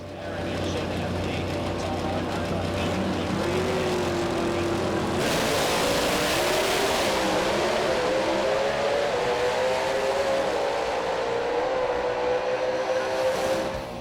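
Pro Stock drag racing cars roaring under cool, dense air at Western Sydney International Dragway, a loud, sustained engine drone that surges and rises in pitch partway through, with an announcer talking over it.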